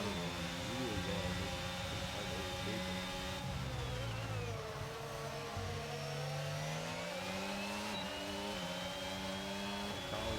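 Racing car engine in a sim racing game at the Austrian circuit, revving continuously with rising and falling pitch through gear changes, loud and close, with another car's engine faintly overlapping.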